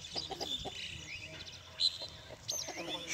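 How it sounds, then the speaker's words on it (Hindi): A rooster that has just been caught clucks and squawks close by in repeated short bursts, with smaller birds chirping in the background. "ये देखिए रोहित मुर्गा पकड़ के लिया आय"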